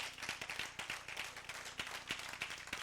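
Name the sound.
congregation applause in church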